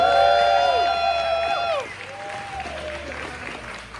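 An audience at a steampunk costume contest claps and cheers for a contestant, with loud whoops and whistles fading into scattered applause, and voices calling out over the crowd.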